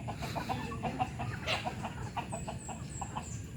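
Rhode Island Red chickens cluck in a farmyard with short, repeated clucks at close to moderate distance over a steady low background, and a faint higher chirp drifts in near the end.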